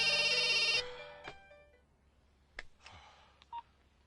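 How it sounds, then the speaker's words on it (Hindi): A telephone rings on an outgoing call to a manager in a Hindi romantic action film scene: a loud, tonal ring burst fills the first moment, then near-silence with a few faint clicks and soft blips. "फोन नहीं उठा रहा यार"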